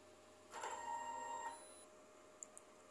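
A DTF printer runs a nozzle test, giving a faint, brief mechanical whir with a steady tonal hum lasting about a second, followed by two tiny clicks.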